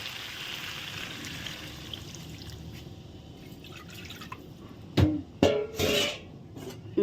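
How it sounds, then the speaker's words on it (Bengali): Water poured into a pot of spiced meat curry as it cooks, a few short splashing pours standing out clearly over a steady low kitchen background hiss. "জল দিয়ে দিই।"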